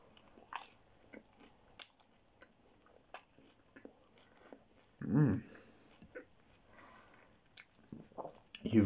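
Close, quiet bites and chewing of a half-pound burger with lettuce, cheese and ketchup, soft crunchy mouth sounds in irregular bursts with a louder bite around the middle.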